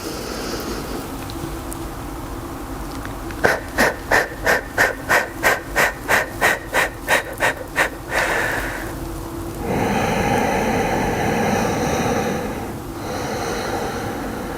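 Deep yoga breathing: a run of about a dozen quick, forceful nasal exhales pulsing evenly, followed by a long, slow inhale and a sustained breath, close and loud with no talking.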